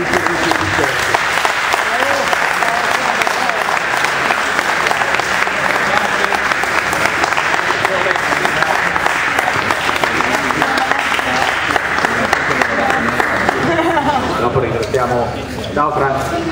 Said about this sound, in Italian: vorrei un ultimo applauso a chi ha contribuito per questo successo